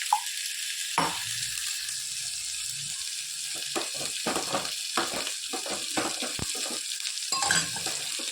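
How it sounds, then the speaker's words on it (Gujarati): Water poured into a pan of sizzling bottle gourd and chana dal tempered with spices, a short splash followed by steady hissing and several scraping stirs, close and alone. "દાળમાં થોડું પાણી નાખી દઈએ."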